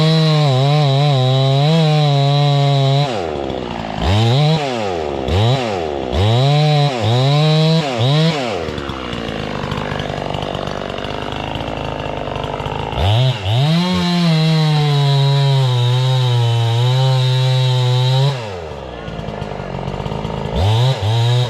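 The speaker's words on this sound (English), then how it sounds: "cut the center out. That way I know my bar will reach the whole tree" A chainsaw cuts into a massive dead oak tree, loud and close, its engine revving up and down in repeated surges with an idling lull midway.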